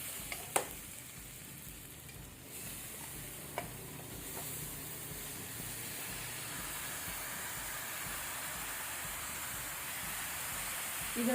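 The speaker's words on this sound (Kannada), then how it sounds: "ಈಗ ಟೊಮೆಟೊ ಸಹ ನೀವು ಒಳ್ಳೆ ರೀತಿ ಫ್ರೈ ಮಾಡಬೇಕು, ಪೂರ ಮ್ಯಾಶ್ ಆಗಬೇಕು." Chopped tomatoes fry in a pan for prawn biryani, giving a soft continuous sizzle and hiss with a few faint stirring clinks, quiet and steady throughout.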